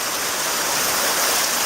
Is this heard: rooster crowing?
no